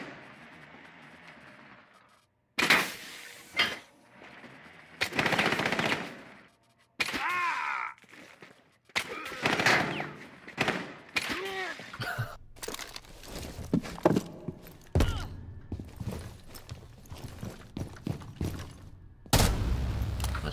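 Gunfire in the video game Rainbow Six Siege: loud bursts of shots and sharp impacts in irregular clusters, with a near-silent opening before the action starts.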